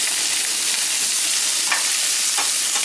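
Chicken for quesadillas fries in a pan with a steady, dense sizzle that stays loud and even throughout, broken only by a couple of brief stirring scrapes.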